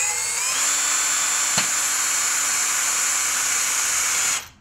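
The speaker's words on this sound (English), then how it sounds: "I'm going to have to drill first" An electric drill bores a pilot hole into plastic on a pallet-wood wine rack, a steady high whine running for about four seconds before winding down abruptly.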